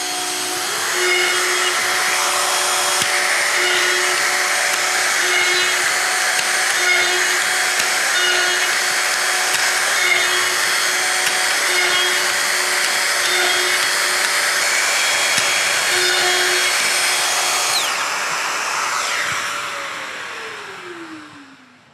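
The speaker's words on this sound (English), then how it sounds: "And now I am again starting with my first drill hole." A Festool drill bores holes in a cabinet side, a loud, steady motor whine with a dust-extractor roar that holds for about twenty seconds and then winds down.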